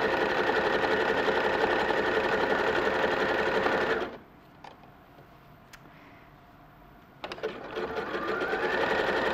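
A sewing machine runs a stretch straight stitch with a steady, loud mechanical whir. It stops abruptly for about three seconds of near quiet and then starts up again.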